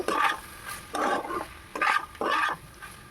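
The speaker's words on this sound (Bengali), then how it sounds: "ভালো করে জোরে গ্যাসটা দিয়ে এবার ভেজে নেব" Pasta tossed in a pan over high gas, heard as four distinct bursts of scraping, sizzling stirring strokes separated by brief quieter gaps, close and moderately loud.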